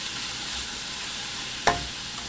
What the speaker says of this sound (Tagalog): Igigisa ko muna siya ng konti para maluto yung gulay.